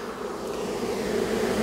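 A honeybee swarm buzzes at the hive entrance in a thick, close hum of many wings that swells slightly and stays steady, with no talking.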